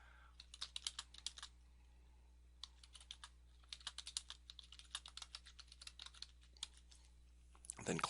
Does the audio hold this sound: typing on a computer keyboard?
yes